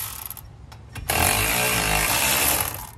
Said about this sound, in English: Now I switch over to the ratchet.